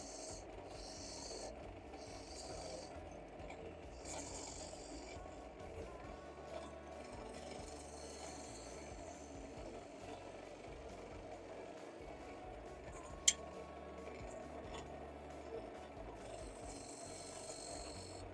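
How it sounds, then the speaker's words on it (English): Sandpaper rubbing a wood turning spinning on a lathe, a soft steady rasp under the lathe's constant hum, with one brief sharp click partway through, no talk. "just a tiny bit of sanding to do to get this"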